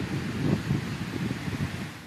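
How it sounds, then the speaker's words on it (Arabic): Strong wind during a stormy day in Lebanon with heavy rain, a steady rushing gust buffeting the microphone, low and rumbling with slight swells, no speech. "يشهد لبنان طقسا عاصفا وغزارة في تساقط الأمطار والثلوج على المرتفعات مترافقا مع رياح قوية"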